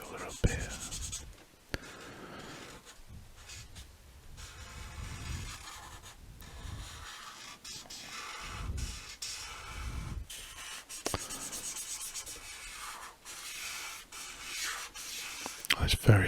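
A Promarker pen scratches and rubs across paper while colouring in shapes, with faint irregular strokes, soft and close, and quiet whispered talk between them.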